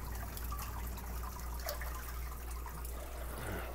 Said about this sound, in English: What if I dilute it with a little bit of that fish tank water?